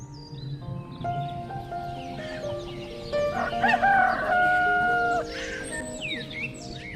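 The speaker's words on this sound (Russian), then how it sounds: "кукареканье петуха на рассвете" A rooster crows loudly once, fairly close, with quieter clucking and other farmyard birds around it.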